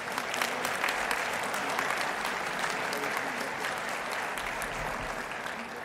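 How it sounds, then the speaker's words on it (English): An audience at a Bowerman presentation event claps for the event staff, a dense, sustained round of applause from a crowd, loud and steady throughout before easing slightly at the end. "So how about a round of applause for them as well?"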